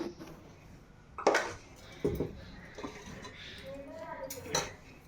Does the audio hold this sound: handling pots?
yes